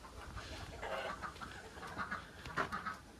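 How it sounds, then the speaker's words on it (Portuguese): Chickens cluck and squawk in a rural farmyard alongside ducks, a scattered run of bird calls at moderate distance over faint outdoor background noise. "Tem umas galinhas lá, marreco, pato."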